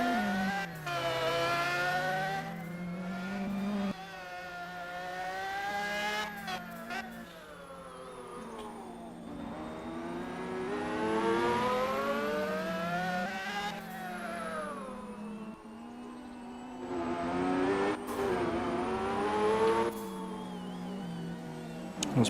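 A super car at a time attack race at Sydney Motorsport Park drives through a chicane and onto the front straight, engine note rising and falling through gear changes and revving hard, steady and fairly close with no voices.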